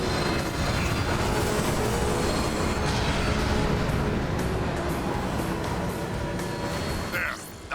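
Train in the Transformers: War for Cybertron video game, a loud continuous rumbling roar of the passing train that holds steady and fades slightly near the end, with a brief whoosh.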